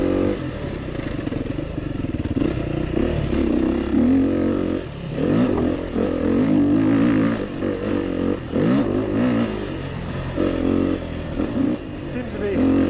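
The engine of a 2023 Beta off-road dirt bike revs repeatedly, climbing and dropping in pitch with a gritty mid-range roar, close by and steady throughout.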